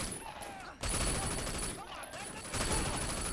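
Machine gun fire in the video game Sleeping Dogs, dense rapid bursts at close range that cut out briefly and then resume louder, mixed with other game noise.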